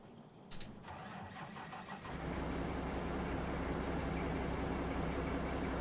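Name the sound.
machine engine starting up in Out of Ore video game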